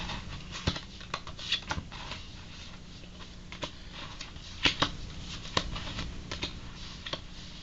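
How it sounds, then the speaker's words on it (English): Playing cards being pulled from the top and bottom of several decks and piled, heard as soft irregular taps and flicks close by, with no talking. "I'm going to take the top card and the bottom card off of every deck"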